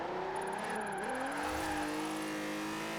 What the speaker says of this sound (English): I think they did a good job with the sound of this car in this game